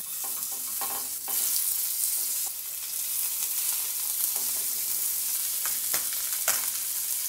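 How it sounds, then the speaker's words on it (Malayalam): River fish fries in hot coconut oil with curry leaves, a dense continuous sizzle and crackle up close, with occasional scraping stirs and no talk. "വെളിച്ചെണ്ണയിൽ കിടന്ന് നന്നായി ഒന്ന് മുരിഞ്ഞ് വരട്ടെ മീൻ"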